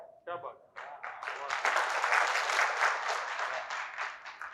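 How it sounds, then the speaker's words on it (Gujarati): An audience at a Gujarati poetry gathering in Godhra breaks into applause after a poem recitation, a dense, sustained wash of clapping that follows a few words from a voice and continues loud and steady to the end. "જયંત પાઠક સાહેબને આપણે વંદન કરીએ છીએ અને તાળીઓ પાડીએ છીએ"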